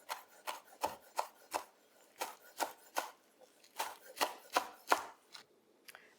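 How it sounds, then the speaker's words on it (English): Knife chopping scallions on a board in quick bursts of sharp, crisp cuts with short pauses between groups, close and clear with no talking. "whenever you're chopping scallions, you want to have a bowl of water ready"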